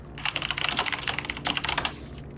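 Rapid, steady clatter of keys on a computer keyboard, dense keystrokes running continuously for about two seconds, close and fairly quiet with no talk over it.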